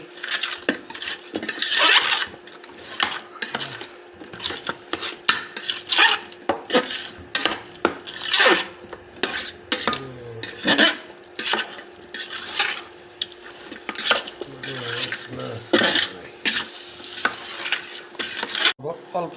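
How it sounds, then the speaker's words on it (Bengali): Beef stirred in a hot pan: a near-continuous run of spatula scrapes and metallic clinks over a steady sizzle, busy and close throughout, with no voices. "ভালোভাবে একটু নাড়াচাড়া করাই"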